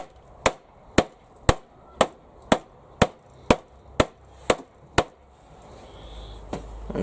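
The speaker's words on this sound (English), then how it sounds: "That'll just dunt down with a hammer." A hammer taps down the joint of a wooden garden gate being built, with about ten sharp, evenly spaced blows one after another, close and loud, then a quieter rustling stretch.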